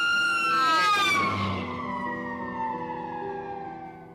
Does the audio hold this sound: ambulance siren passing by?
yes